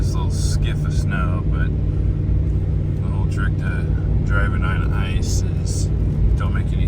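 Car driving on a bouncy, icy road under a thin layer of snow during a blizzard on the way to Alaska, a loud continuous low rumble of engine and tires, with someone talking over it throughout.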